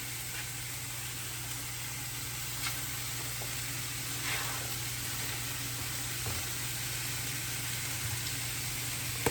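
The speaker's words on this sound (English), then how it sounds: "I'm gonna go ahead and get my greens in the pan" Freshly picked garden greens frying in a pan give a steady, even sizzle that stays close and continuous throughout, with faint stirring noises now and then and no talking.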